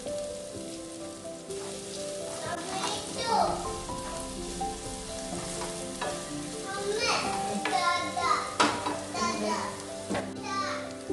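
Finely chopped onions with spices roasting in a hot pan for cauliflower Manchurian, a continuous frying sizzle with stirring scrapes, under a person talking and children's voices in the background.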